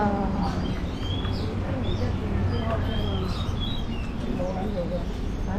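Caged songbirds chirp and tweet in scattered bursts at Hong Kong's Bird Street market, with occasional cooing like pigeons or doves, all over a steady crowd murmur and nearby voices.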